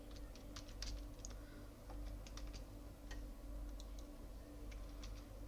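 Quiet typing on a computer keyboard, with a run of light, irregular keystrokes heard faintly and without talk.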